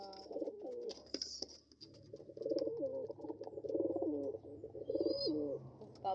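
Pigeons coo close by in soft, throaty rolling phrases, repeated several times over a faint background with a few high chirps.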